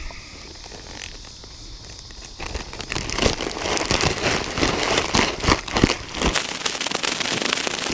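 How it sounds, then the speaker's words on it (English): Carp bait mix with leftover strawberry preserves being squished and kneaded inside a plastic bag, giving a steady run of close crinkling, crackling plastic rustles that grow busier and louder after the first couple of seconds. "I like mixing it up in a plastic bag like this."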